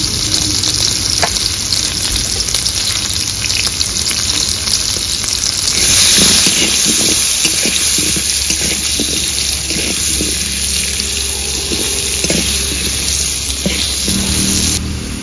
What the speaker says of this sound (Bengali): মাছ ভাজা তেলের মধ্যেই ভেজে নেব।